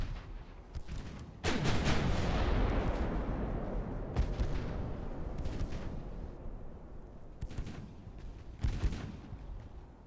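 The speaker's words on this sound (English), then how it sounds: "9-inch guns really do make a mess of small ships." 9-inch naval guns firing at small ships in a 1930s-era strategy game: a heavy booming salvo with a long rumbling decay, followed by further thudding shots and distant explosions spread across the scene.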